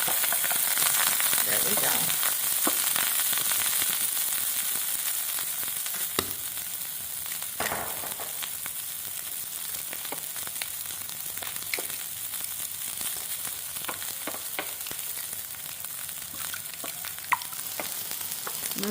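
Rice hisses and crackles as it fries in cooking oil in a pan for a chicken fried rice dish, a loud, steady sizzle close up with occasional stirring scrapes, and a brief spoken remark partway through.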